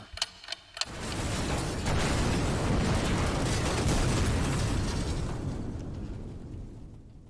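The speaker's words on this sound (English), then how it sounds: "So we had an explosion, and the explosion turned into a fire." A few sharp clicks, then a huge roaring blast from an explosion at a cryogenic gas processing plant swells and holds as a dense rumble for several seconds before slowly fading.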